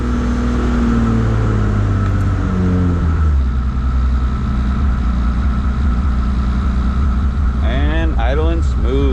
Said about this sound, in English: Idling smooth.